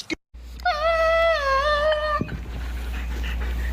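A dog whines while waiting for a stick to be thrown, letting out one long, wavering, high-pitched whimper up close. Quieter background noise follows the whimper.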